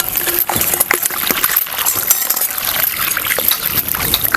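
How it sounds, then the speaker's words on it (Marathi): Raw chicken pieces being rinsed by hand in a vessel of water for a village-style spicy chicken curry, with continuous sloshing, splashing and light clinks close by, no talk over it. "पाणी घालून आपल्याला चांगलंच आहे स्वच्छ धुवून घ्यायचं"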